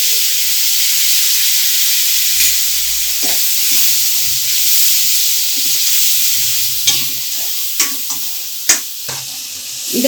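Mustard seeds and curry leaves crackle and sizzle in hot tempering oil, a steady frying hiss with scattered sharp pops and light stirring clatter, close and continuous, no voices.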